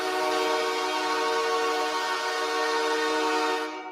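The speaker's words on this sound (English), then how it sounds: "The LA Kings goal horn sounds like this, Lonzo." The LA Kings hockey goal horn blares as one loud, continuous, train-like chord lasting several seconds with steady harmonic tones, cutting off abruptly at the end.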